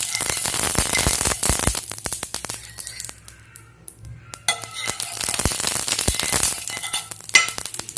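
Oil crackling and sizzling on a hot griddle (tawa) for bread aloo tikki, a loud, close, continuous spitting hiss with scraping and stirring clatter mixed in, dipping briefly around the middle.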